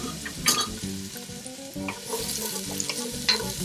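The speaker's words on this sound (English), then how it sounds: "kind of mix that around a little bit with the oil. And then I have our vegetables. Onions and peppers." Onions and peppers frying in oil in a pan, a steady close sizzle with soft scraping and stirring knocks of a utensil throughout, no voices.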